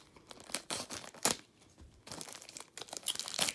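Plastic sample packaging around a pack of Honduran cigars crinkles and tears in sharp, irregular bursts as it is cut open, close and fairly loud with short pauses between the rustles.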